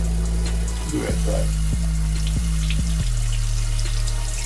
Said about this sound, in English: Get some hot water.